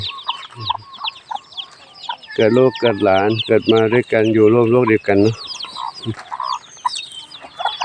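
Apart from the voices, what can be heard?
chickens and chicks clucking at Wat Pong Chai temple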